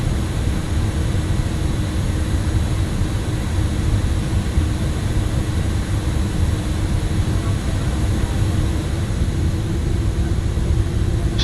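An airliner's engines spool up on the take-off roll in Microsoft Flight Simulator during a cargo run from Surabaya, giving a steady, dense low roar that holds evenly throughout with no voices over it.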